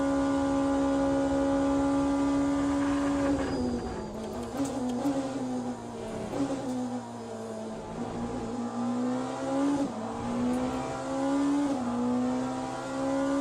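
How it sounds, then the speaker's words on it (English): Porsche race car engine screaming through gear changes in Le Mans Ultimate, a loud, high, buzzing V8 wail rising and falling with each shift. "Beautiful sound of that Porsche. Like a screaming V8."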